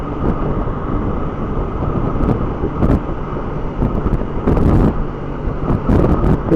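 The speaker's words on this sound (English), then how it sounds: "It's a lovely day, a bit breezy." Steady, loud wind roar buffets the rider on a breezy day aboard a Honda ST1300 motorcycle in Sussex, with gusty swells rising every few seconds over a constant rushing rumble.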